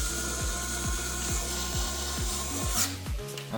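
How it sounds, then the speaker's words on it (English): A screwdriver turns a small screw into the spinner of a Turbo Timber Evolution RC plane, making a rhythmic, squeaky rasp that repeats several times close up. "And I got my screwdriver."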